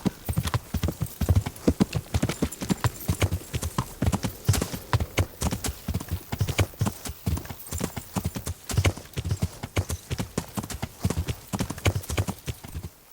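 Horse hooves clip-clop steadily and close in the medieval role-playing game Kingdom Come: Deliverance, a brisk, even rhythm running throughout with a brief whinny-like sound and faint ambient noise, no talk.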